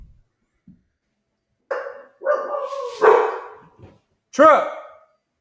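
A dog barks close by in several loud, sharp bursts, with a short pause between them and a brief voice in the gaps.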